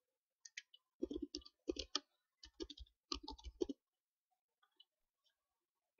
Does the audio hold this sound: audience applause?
no